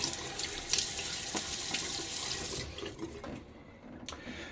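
Water runs from a tap into a sink for wetting the face before a shave, a steady close splashing flow that cuts off partway through, leaving faint drips and small handling sounds.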